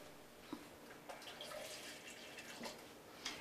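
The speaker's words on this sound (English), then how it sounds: "I'm going to add about another 1/4 cup of water." Water runs and trickles faintly as about a quarter cup is poured into a blended rice mixture with chicken base, a soft splashing flow with a few small drips.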